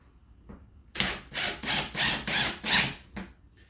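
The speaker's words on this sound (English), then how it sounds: "The plywood will not split if you pre-drill" Power drill pre-drilling into scrap plywood, a close burst of rhythmic ratcheting pulses with a short tap before and a brief knock after.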